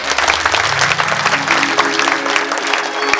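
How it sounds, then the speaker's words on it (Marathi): Loud, sustained clapping from an audience at a devotional kirtan on the life of the saint-poet Mahipati Maharaj, dense and continuous from start to finish with a low murmur of the crowd beneath. "या सगळ्या प्रसंगासाठी प्रेमानं आपण टाळी वाजवू"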